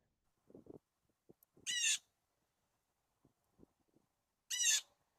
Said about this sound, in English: We hear this bird calling from in the tree. It's a blue jay